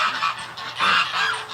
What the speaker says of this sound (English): Oh, there's a bunch of wild ducks down there. We've got wild drakes, mallards here.